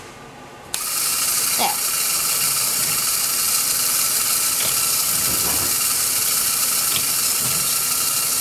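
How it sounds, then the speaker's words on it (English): A small motor drives a Geneva drive mechanism, turning its gear 90 degrees at a time. A steady mechanical whir and gear clatter runs close and loud, broken by periodic clicks as each step indexes, with one brief spoken word. "Basically, you can see this gear is spinning from that motor."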